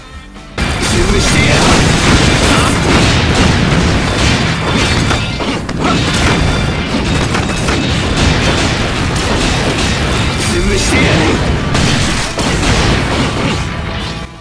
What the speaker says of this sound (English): one shot is just going to go straight down the line, pinging each and every one of them